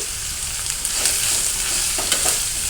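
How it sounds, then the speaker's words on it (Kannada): Curry leaves and onion fry in oil with mustard seeds, making a loud, continuous sizzle close by. A few bright crackles and stirring scrapes punctuate it, and there is no talk. "ಕರಿಬೇವು ಈರುಳ್ಳಿ ಇಷ್ಟು ಹಾಕಿ ಫ್ರೈ ಮಾಡ್ಕೊಳ್ಳೋಣ ನೀಟಾಗಿ ಫ್ರೈ ಮಾಡ್ಕೊಳ್ಳೋಣ"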